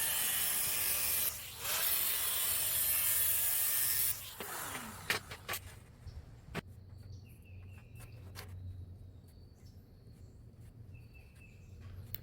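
A tool scrapes and rubs along a metal sheet in a few strong strokes, grooving bend lines for a charcoal chimney, followed by quieter scattered scratches and taps.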